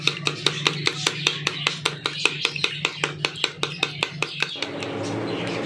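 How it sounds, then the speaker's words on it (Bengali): Eggs are beaten in a bowl with a hand blender, a brisk, regular run of sharp tapping clicks at about four per second that stops near the end and leaves a soft hiss. "এই হ্যান্ড ব্লেন্ডারের সাহায্যে ডিমটাকে ভীষণ ভালো করে ফাটিয়ে দেবো"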